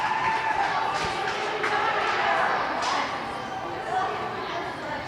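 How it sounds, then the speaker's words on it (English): SAR girls' JV volleyball team chanting their sting cheer at a game against Ramaz, a loud sustained crowd roar of voices and cheering with chatter throughout. "Now SAR is about to do their famous sting cheer."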